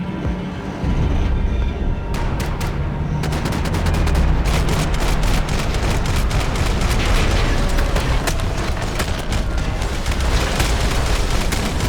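Heavy gunfire in a Max Payne 3 cutscene: dense, loud bursts of automatic fire and rapid overlapping shots with booming impacts, almost continuous after a brief quieter opening.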